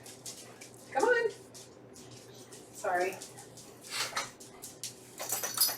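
Dogs whimpering and whining to be let outside, two short plaintive bursts rising and falling, fairly close, with quieter household noise between them.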